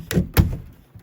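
A pen door on a homestead farm is forced open in winter, its water bottle in the way, giving two close, heavy wooden thunks about a quarter second apart, followed by faint rattling and quiet.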